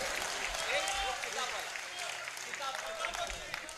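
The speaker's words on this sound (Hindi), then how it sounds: "एक बार जोरदार तालियां श्रद्धेय जगदीश भाई साहब के लिए।" An audience applauds the poet Jagdish Solanki at a poetry gathering, a steady, dense wash of clapping throughout with voices mixed in.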